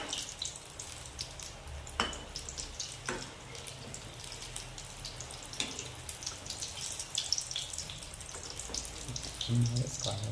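Okra frying in hot oil for curry, a steady bubbling hiss with occasional sharper crackles and clicks, with a voice faint in the background.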